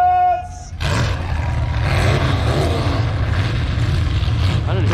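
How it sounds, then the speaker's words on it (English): Demolition derby cars firing up at the start of the event, a low engine roar that breaks in after a short pause and then holds as a loud, steady rumble. "Driver, start your engines!"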